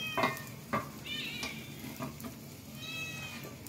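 Eggplant omelette, tortang talong, sizzles and browns in a frying pan, a soft, steady frying crackle with a few sharper pops and brief high squeaky tones on top, fairly quiet and without talk.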